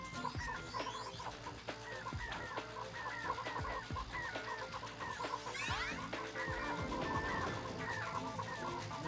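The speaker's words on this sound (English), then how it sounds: "Don't ask why there's a bunch of chickens here." Several chickens cluck and bawk in the video game Ratchet & Clank, overlapping bursts of clucking over a soft background, with a brief whooshing sweep partway through and no talk.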